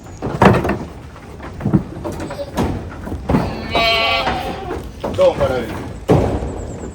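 Boer goats on a farm bleat repeatedly, several loud calls close by, mixed with people talking and bumping sounds around the pen.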